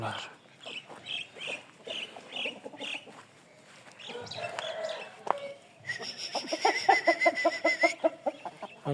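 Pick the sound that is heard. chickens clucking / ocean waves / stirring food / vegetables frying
chickens clucking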